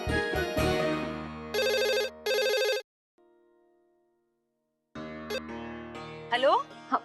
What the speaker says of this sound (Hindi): हाँ, घर फोन करती हूँ।